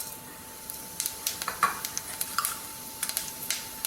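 Fennel seeds, cumin, cinnamon and cardamom hit a small amount of hot oil for tempering, crackling in quick, sharp pops over a soft sizzle, close and without talk.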